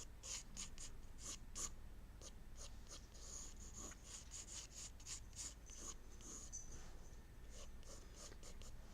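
A pen or pencil drawing a small cartoon figure on paper, with faint, close scratchy strokes in short bursts over a steady low background hum.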